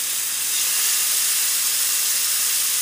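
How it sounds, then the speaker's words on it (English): Tandoori fish sizzles steadily in a very hot pan, a dense continuous hiss close up and fairly loud, with no talking over it. "you want to hear that sizzle. That's when you know that your pan is really nice and hot."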